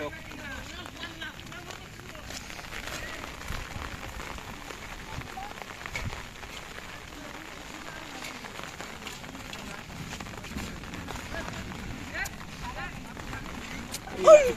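Rain falls steadily outdoors during a stormy spell with lightning nearby. A faint, continuous hiss runs beneath people talking close by, and a louder knock comes near the end.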